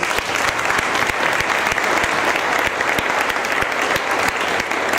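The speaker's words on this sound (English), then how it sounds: "deserves a huge round of applause" A crowd at the Citroën Rendezvous 2012 claps steadily and enthusiastically for several seconds, a dense, continuous round of applause filling the room.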